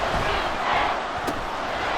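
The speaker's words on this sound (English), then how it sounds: "This crowd turning up the decibel level." A stadium crowd roars in the Madden 24 football video game, a continuous loud din of cheering with a brief sharp hit near the middle, and no clear talk over it.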